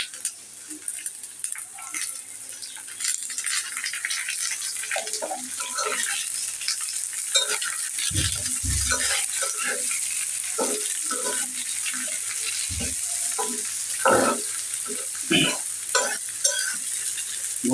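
Potatoes stir-fried with peas and beans in a pan, a steady close sizzle with repeated spatula scrapes and clinks throughout.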